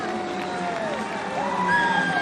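Crowd cheering and roaring at the kayak cross world championship final, a steady wash of many voices with a commentator speaking over it.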